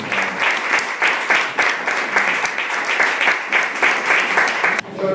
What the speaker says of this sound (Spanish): Quiero pedir un aplauso para Daniel Tejada